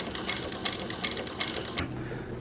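Juki walking foot industrial sewing machine with an analog-style servo motor, stitching slowly, its needle strikes sounding as a steady run of distinct ticks over a low mechanical hum, close and alone.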